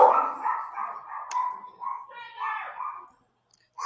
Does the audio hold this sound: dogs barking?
yes